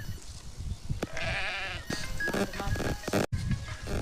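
Sheep bleat repeatedly in a wavering, nasal call, loud and close, during an injection, with rustling and farmyard noise between the cries.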